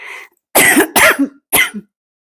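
Three harsh human coughs in a kitchen, close and loud, after a soft breathy onset; the second follows right on the first, then a short pause before the last.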